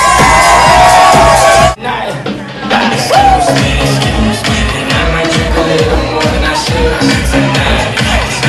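A wedding crowd erupts in loud, sustained cheering, shouting and whooping that fills the room after a brief burst of music and voice, with the noise holding steady to the end.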